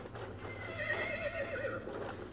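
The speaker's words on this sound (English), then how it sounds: "There's another horse." Horse neighing on a battlefield in the video game Battlefield 1, a single drawn-out whinny heard fairly close, with hoof and ambient battle noise underneath.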